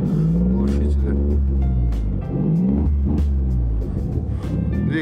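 Chrysler engine for a 2003-2008 Pacifica with 130,000 km, running on test without a muffler, a loud rough rumble with repeated revving swells, close up, with someone speaking over it.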